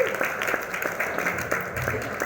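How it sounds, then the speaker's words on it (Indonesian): Indoor audience of married couples clapping in a room, a continuous dense patter of applause with scattered louder claps, steady throughout. "Tepuk tangan untuk semua pasangan suami istri yang ada di ruangan ini."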